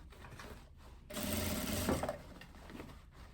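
A sewing machine runs a short burst of topstitching on a tailored vest, a quiet mechanical whir that holds for about a second after brief stops, heard close and alone.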